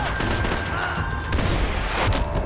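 Dense gunfire from Max Payne 3 during a headshot-heavy firefight, rapid overlapping shots and booms packed tightly together, loud and close throughout the short burst.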